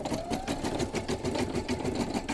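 An embroidery machine stitching a gnome hat design in woolly metallic thread runs steadily and close, a fast continuous mechanical whir with a faint rising whine at the start and no talk.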